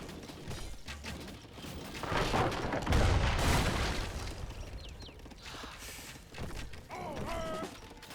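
Deep booming thuds of heavy cannons and mechanical clatter from a busy Age of Empires 3 battle, with heavy impacts swelling midway and a few chiming effects near the end.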